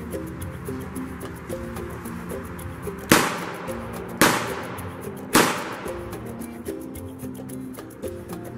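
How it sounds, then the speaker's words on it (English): Three sharp shots from a Taurus 856 revolver at a 10-yard range, each a crisp crack followed by a short decaying echo, spaced about a second apart over a quieter background. "this time we'll start off with the 856 and do 3 shots"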